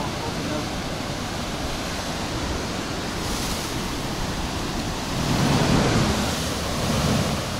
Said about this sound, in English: we need to observe the waves and see where they crash